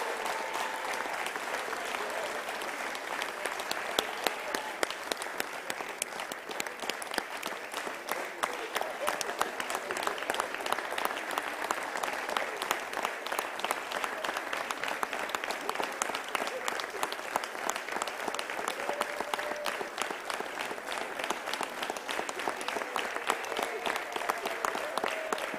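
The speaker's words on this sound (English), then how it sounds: "Please give him a round of applause." An audience applauds at a matric results announcement, with steady, dense clapping that goes on for the whole stretch, evenly loud and unbroken by any talk.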